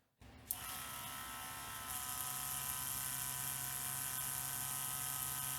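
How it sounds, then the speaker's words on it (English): Small electric pump used for force-carbonating beverages switches on with a click and settles into a steady whirring hum that rises slightly partway through, close and alone, without talk. "So I'm going to go ahead and turn my pump on."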